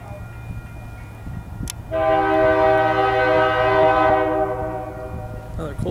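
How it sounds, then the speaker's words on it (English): A Union Pacific locomotive horn blares in a long, loud chord for a few seconds over the low rumble of an empty coal train passing in Rochelle, Illinois. "Another coal train. Empty coal,"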